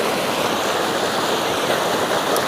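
A shallow stream runs over rocks near a campsite, a steady, fairly loud wash of rushing water heard close and continuous with no talk.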